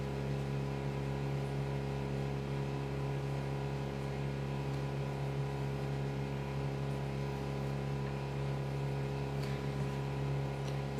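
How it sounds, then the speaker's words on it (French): Constant mechanical hum from a dishwasher running nearby, with a steady low drone and faint whirring, unchanging and fairly loud throughout. "Le bruit que vous entendez, c'est pas le Thermomix, hein, c'est mon lave-vaisselle."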